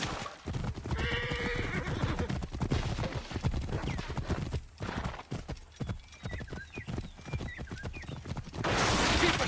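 Horse hooves clip-clop steadily during a chariot race in the video game Assassin's Creed Origins, amid a busy, noisy scene, with a whinny rising over the clatter partway through.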